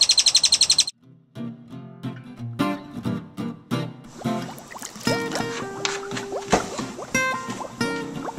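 Birds chirp and sing in a series of bright, separate calls over a backdrop of musical tones, fairly loud and close, with no voices.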